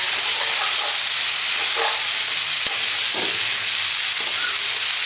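Okra and onions sizzle steadily in a hot pan, a constant bright hiss with faint stirring clinks and a sharp tap near the middle.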